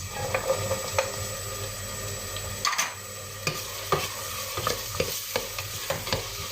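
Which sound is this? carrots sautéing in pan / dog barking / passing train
carrots sautéing in pan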